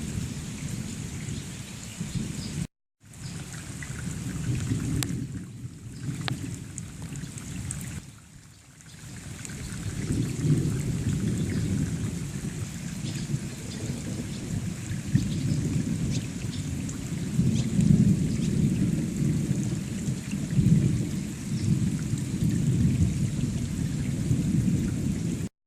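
Heavy rain drums on an RV roof while low thunder rumbles, the downpour building to a dense, steady patter with rolling booms, broken by a couple of short drops early on.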